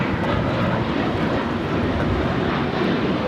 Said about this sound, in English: This is Korean Air Flight 11 coming in from Seoul on the 747-8 Intercontinental